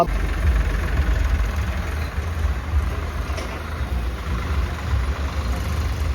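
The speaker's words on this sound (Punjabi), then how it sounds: "ਆ ਵੀ ਜੀ ਟਰੈਕਟਰ ਆ ਰਿਹਾ ਪਿੰਡ ਫੇਟਰੀਆਂ ਦੇ ਵਿੱਚ" A new tractor's diesel engine runs steadily in a village, a low, constant rumble with a faint whine on top and no talk.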